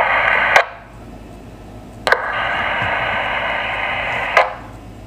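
UHF handheld FM radio on the 464 MHz business band picking up repeater transmissions: steady hissy carrier bursts, each ending in a sharp squelch-tail click, three clicks spaced about two seconds apart, no voices.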